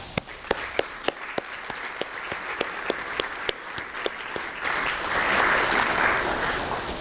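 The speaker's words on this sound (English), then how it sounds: "I would invite us to encourage them with a round of applause once more" Applause at a university distinguished lecture event: a few sharp, evenly spaced claps start it off, then a fuller crowd clapping swells and holds steadily toward the end.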